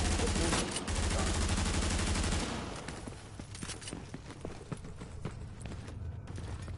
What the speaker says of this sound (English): Someone's shooting them. Someone is. They're shooting each other.